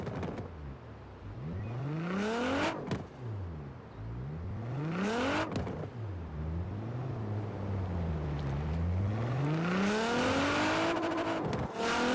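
A 2017 Nissan GT-R R35 in Forza revs repeatedly, pitch climbing through gears and dropping between shifts, a loud, steady engine drone that sweeps up and down throughout.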